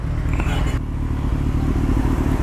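A motorcycle engine rumbles steadily nearby during a night ride, a low throbbing drone that holds fairly loud throughout as the bike approaches.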